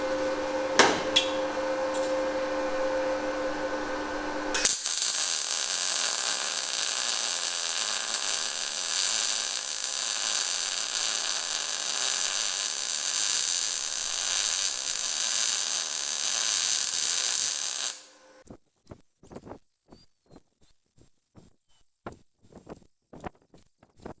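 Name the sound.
welding a metal vehicle rotisserie jig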